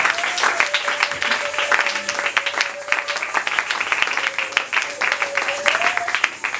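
A church congregation claps loudly and continuously, dense and sustained, while a voice sings or calls out over the applause.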